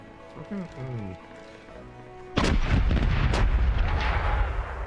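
A naval video game of sailing ships, where after a shouted order a broadside of cannon fire erupts in several loud, heavy booms that roll into rumbling noise, with a voice calling commands beforehand.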